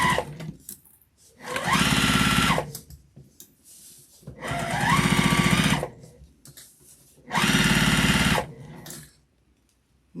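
A sewing machine stitches a tote bag seam with a back stitch, three close bursts of rapid mechanical whirring, each a second or two long, separated by short pauses with faint handling sounds.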